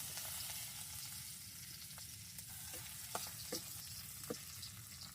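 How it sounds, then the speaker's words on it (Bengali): Leafy greens sizzle in very hot oil with garlic, a dense, steady frying hiss broken by a few sharp pops and light stirring clicks. "তারপর এই যে শাক দেওয়া হবে তেলও গরম হয়েছে অনেক"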